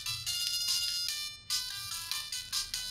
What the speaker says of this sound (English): It's like some Chinese music.